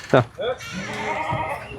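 Fat-tailed dumba sheep and goats bleat in a pen, a couple of short nasal cries close by, mixed with nearby talking voices.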